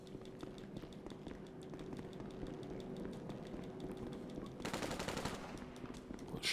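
Rapid automatic gunfire from GTA 5 Online, a steady rattling stream of shots with a denser, louder burst near the end, heard alone without talk.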